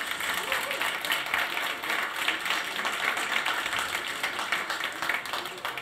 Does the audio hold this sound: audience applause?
yes